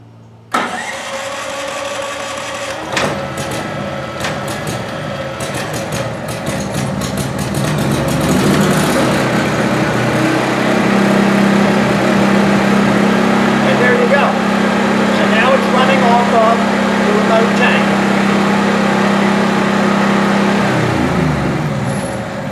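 A Wen 6800 watt generator running from a remote fuel tank coughs into life and settles into a loud, steady engine drone with a sustained low hum, not yet fully warmed, while a voice faintly talks over it.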